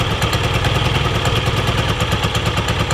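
A Yamaha scooter running on old gas sputters and revs in quick, uneven pulses, its loud mid-pitched engine clattering steadily throughout with no talk.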